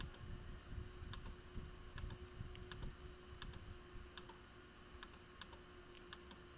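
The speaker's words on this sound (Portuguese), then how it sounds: "deixa eu digitar novamente a senha." A password is tapped out on a computer keyboard in quick, light clicks that come in irregular bursts, faint over a steady electrical hum with no talking.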